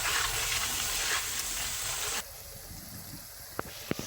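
Biryani masala frying in a pan for one-kilo chicken biryani gives a steady broadband sizzle that drops to a quieter hiss partway through, with a couple of sharp stirring clinks near the end.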